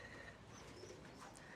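Pigeons coo softly inside their loft, with faint low calls over a steady background hum. No voices are heard.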